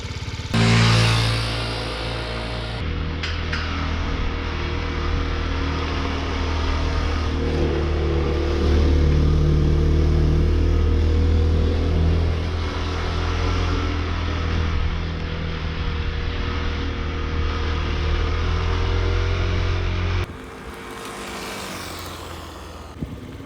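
A bus engine on Naoshima Island runs steadily for about twenty seconds, a loud, continuous low drone with rising and falling revs, before cutting to a quieter, different sound near the end.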